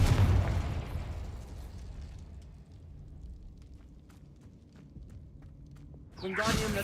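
A loud, booming Confringo spell blast from the Hogwarts Legacy video game erupts at the start and rumbles away into a quieter low hum, then a second burst flares up near the end.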